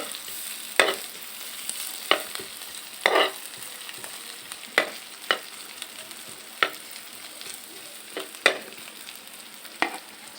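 Ginger fries in a little cooking oil in a pan while shellfish sisig is being cooked, giving a steady close sizzle broken by regular scraping and clacking stirring strokes roughly every second.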